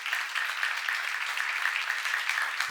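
Congregation clapping during a church seminar sermon, a fairly soft, even wash of many hands clapping continuously, slightly distant in a large room.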